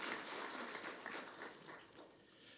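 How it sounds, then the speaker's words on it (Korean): Audience applause at a humanities academy opening ceremony, a faint, steady wash of many hands clapping that tapers off slightly at the end. "큰 박수 부탁드립니다."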